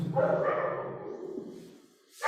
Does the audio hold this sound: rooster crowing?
no